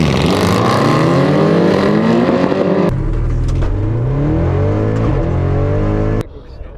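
A modified Audi RS6 and a rival car race, their engines roaring loud and close with rising and falling revs, a sharp break midway, then sustained high-pitched engine drone before an abrupt cutoff.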